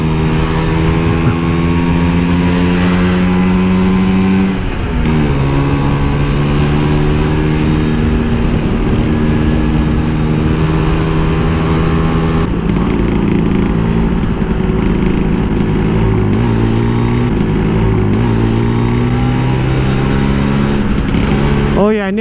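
An old Vespa scooter engine revs repeatedly up and down, loud and close, its pitch rising and falling in uneven bursts, with a slightly lagging throttle response.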